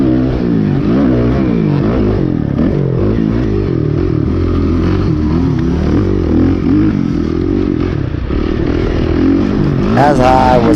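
A Suzuki RMZ 450 motocross bike racing on a motocross track, its engine loud and close throughout, revving and shifting with a continuous roar, while someone talks over it.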